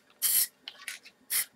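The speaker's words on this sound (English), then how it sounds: "You want to try to keep your paint held probably, I'd say, at no closer than a foot away as you're spraying it." Short bursts of spray paint from a can aimed at a miniature wargaming model during painting and weathering, three distinct hissing sprays with brief pauses between, close and fairly quiet with no talk.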